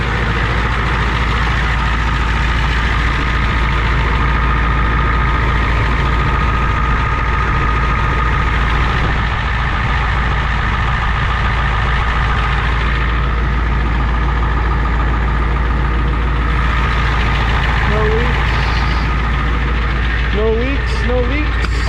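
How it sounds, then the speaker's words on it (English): An OBS Ford F-Series truck engine idles while warming up, a steady, loud, close low rumble that continues unbroken, with faint clinks near the end. "still warming up the truck"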